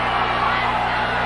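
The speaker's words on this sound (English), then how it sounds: "The crowd hollering one more time." A wrestling arena crowd hollers in a steady, dense roar that fills the whole brief moment, loud and continuous with no breaks.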